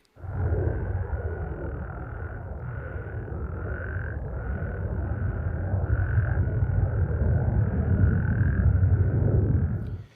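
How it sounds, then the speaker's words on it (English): A dense chorus of frogs croaks steadily and loudly throughout, with a pulsing higher note repeating over a low, thick drone of calls. The sound swells slightly toward the end. "it took the frogs fully 45 minutes to regain their chorusing synchronicity"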